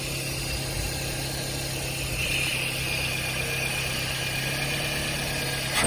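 Steady running idle of a 2004 Scion xA's 1.5-litre engine, a constant low hum and drone with no talk over it, holding even throughout.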